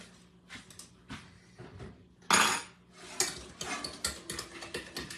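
Banana pudding custard filling whisked in a bowl, with rapid metallic clinks and scrapes of the whisk against the sides, close and fairly quiet, one sharper louder rattle midway, with no talking.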